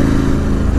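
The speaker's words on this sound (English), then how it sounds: "you can really hear the valves on the exhaust opening and closing from a sort of gurgle, sort of burble to sort of nothing" A Ducati Scrambler 1100 Special motorcycle's exhaust gives a steady, loud low burble up close, a brief continuous engine rumble with no talk.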